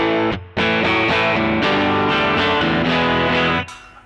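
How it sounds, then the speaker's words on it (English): An electric guitar on its bridge pickup, played clean, rings out a short riff of bright, distinct notes after a brief opening note, then stops with a clear cutoff near the end. "Here is the bridge pickup clean."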